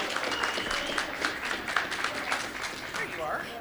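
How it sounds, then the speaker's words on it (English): A crowd in a sales rally hall at a Dave & Buster's restaurant bursts into sustained applause for a speaker being introduced. Dense, steady clapping fills the whole stretch, with cheers or voices mixed in. "Please give a nice round of applause to Ms. Tammy Miller."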